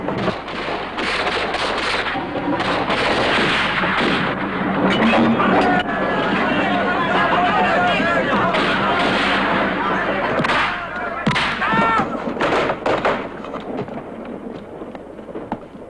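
Gunfire from a spaghetti western film cracks in a dense, loud barrage of shots and blasts lasting most of the scene, with voices shouting over it.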